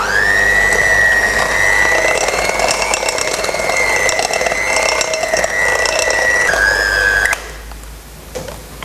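An electric mixer whirs steadily on slow speed through butter, eggs and cake mix, a loud close motor whine that holds its pitch, drops slightly near the end, then cuts off abruptly.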